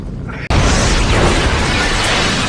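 A helicopter blows up in an action film scene, a sudden loud blast that bursts in after a short lead-in and rolls on as a sustained, dense roar with no talking.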